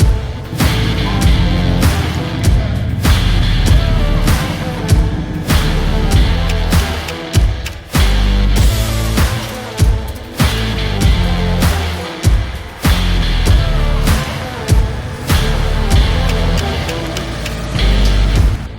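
A 2023 Ford Raptor R with its 5.2-liter V8 running on a dyno, a loud, sustained engine roar that rises through the revs, broken by brief dips between gear changes.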